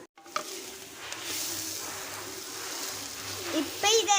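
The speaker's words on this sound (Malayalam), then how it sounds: "ഇനി നമുക്ക് ഇതിലേക്ക് മുന്തിരി അണ്ടിപ്പരിപ്പ് ഇട്ടിട്ട് വഴറ്റി കൊടുക്കണം." Raisins and cashews sauté in hot oil in a pan for chicken biryani, a soft steady sizzle with occasional stirring scrapes and a brief louder clatter near the end.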